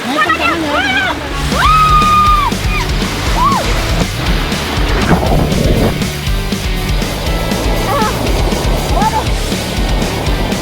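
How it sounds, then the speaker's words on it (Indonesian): Strong river current rushes and sloshes loudly and continuously beneath people talking close by at a Buleleng, Bali river. "sekarang ini arusnya deras juga"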